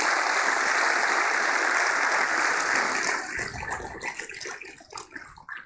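Congregation applause at a church service in Teatro Vallarta: a dense, hissing wash of many hands for about three seconds, then thinning into scattered claps as it dies away.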